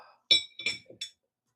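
Glasses clink together in a toast inside a garage, three or four bright, ringing taps spaced apart over near silence.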